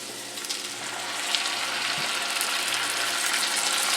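Cooked sausage keeps up a steady sizzle in a pan as canned tomato sauce pours in, making a broad, continuous frying hiss that swells slightly partway through, with no talking.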